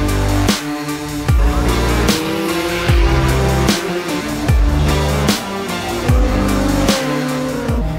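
Race cars roar past on a racetrack one after another, loud and close, engines sweeping down in pitch as each passes, with steady high-revving drone between passes.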